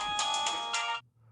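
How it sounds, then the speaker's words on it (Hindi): A phone ringtone plays a bright, repeating electronic melody for about a second, close and clear, then cuts off into near silence. "किसका फोन आ गया?"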